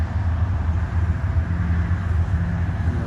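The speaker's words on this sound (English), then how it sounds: "Somewhere in the distance over there, just on the other side of the road, there's a train going, as you can hear it." A train runs somewhere in the distance beyond a road near a park memorial, heard as a steady low rumble that stays level for the whole stretch. No one talks over it.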